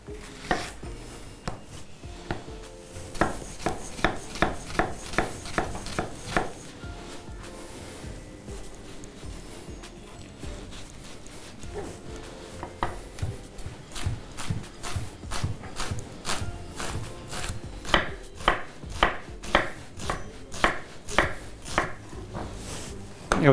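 Onion chopped on a board while cooking a schnitzel: steady runs of sharp, close knife strikes in quick bursts with short pauses, heard alone without talk.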